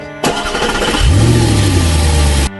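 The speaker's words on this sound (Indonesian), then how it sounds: "mobil yang tiba-tiba menyala sendiri" A car engine cranks briefly, then catches and settles into a steady, loud rumble that runs to the end.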